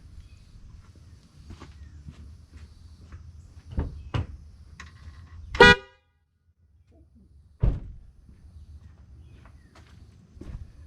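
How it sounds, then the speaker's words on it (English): An upgraded horn on a 2023-2024 Honda CR-V gives a short loud blast amid quiet shuffling and a few clunks, followed by another brief honk-like burst a couple of seconds later. "That's crazy that it didn't come from the factory with that horn"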